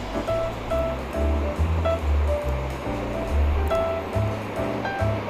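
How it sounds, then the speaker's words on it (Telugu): Gram flour batter for boondi laddu is mixed by hand with small additions of water, giving close, wet, rhythmic squelching and sloshing that pulses steadily throughout. "కొంచెం వాటర్ యాడ్ చేసుకుంటూ బ్యాటర్ని కలుపుకుంటున్నాను"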